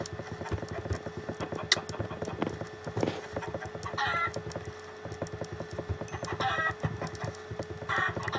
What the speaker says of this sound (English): There's a chicken behind me